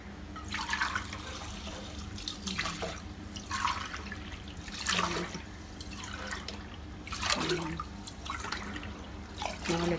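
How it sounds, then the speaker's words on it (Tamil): Water poured in several separate splashing bursts onto washed mappillai samba rice in a vessel, each pour a short trickling gush with quiet gaps between, fairly faint and close, with no talk. "நாலு டம்ளர் தண்ணி ஊற்றிட்டேன்."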